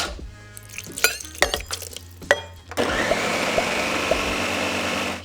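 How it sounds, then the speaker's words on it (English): About a quarter cup of water goes into a blender of keto refried beans. A few scattered clicks and knocks lead into the blender motor starting up and then running as a loud, steady whir that churns the thick mixture. "we are going to be adding in about a 1/4 cup of water to get things moving again"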